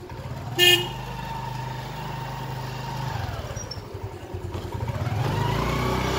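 A scooter rides along a road with traffic, its engine hum steady throughout while a brief car horn toots near the start and other vehicles pass by.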